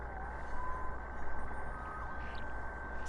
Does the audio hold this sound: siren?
yes